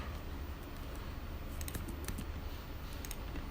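Someone types a short phrase on a computer keyboard, a brief burst of quick, light key clicks heard close up over a steady background hiss, with no talking.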